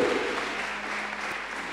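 Church congregation applauding in praise of Jesus during a sermon, a dense steady wash of clapping that holds at an even level throughout without pause.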